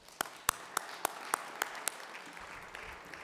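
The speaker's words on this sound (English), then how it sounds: "give them a round of applause" A few people at a school signing day ceremony clap sparsely, with about seven distinct, evenly spaced claps that stop after two seconds.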